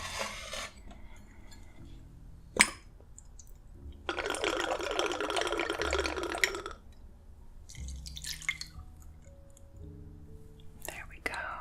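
A drink poured into a glass in a quiet bar setting: a bright, continuous splashing stream of liquid for a few seconds, framed by soft whispering and small glassy clinks.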